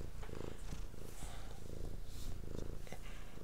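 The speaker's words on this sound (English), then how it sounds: "Can you hear her purring?" A cat purrs close up in a steady rumbling rhythm, each breath cycle audible, with no talking over it.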